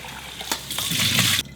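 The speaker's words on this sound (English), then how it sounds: "rinse this in cold water" Cooked Korean rice cakes for a rice cake punch being rinsed in cold water, a short close splash and trickle with a few sloshing bursts that stop abruptly.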